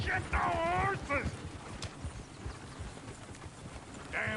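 Horses' hooves clop in Red Dead Redemption 2, a busy rhythmic trampling under loud shouting voices at the start and end of the stretch.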